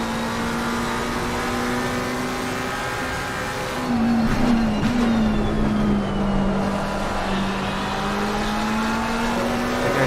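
A Porsche and other race cars circling Watkins Glen in the Pan Am Racing game, a steady engine drone with a sustained pitch that dips and rises through a corner, loud and continuous with no talk.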